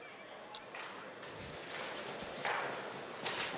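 A two-year-old horse trots at a horse sale, with a steady rhythm of light hoof beats on the ground, faint and partly masked by the murmur of the surrounding crowd.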